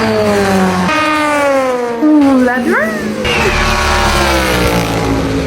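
Loud NASCAR stock car engines roaring and revving, pitch sweeping up and down as cars pass, with a brief voice exclaiming over the din.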